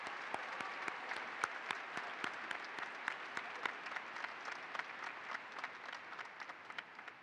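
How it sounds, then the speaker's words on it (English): A graduation audience in a high school ceremony gives a round of applause for retiring staff. The clapping sounds fairly distant and sparse, with distinct individual claps standing out over a soft continuous patter that thins toward the end. "Please join me in a round of applause"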